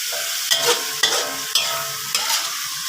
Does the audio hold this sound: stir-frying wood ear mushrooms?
yes